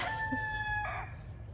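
A rooster crows once, a bright drawn-out call rising then breaking off, fairly close over low background rumble.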